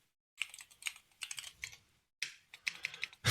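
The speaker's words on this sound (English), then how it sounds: "I'm on my gaming keyboard" Keys clatter on a gaming keyboard in quick bursts of typing, close and crisp, with short pauses between runs of keystrokes and no talking.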